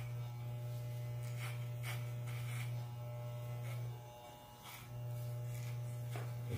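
Electric hair clippers with a number 4 guard buzz steadily up close while cutting fine hair for a modern military haircut, the tone dipping briefly mid-pass as the blade moves through the hair, with no talk.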